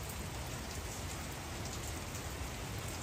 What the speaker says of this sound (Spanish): Pero qué bien que está lloviendo.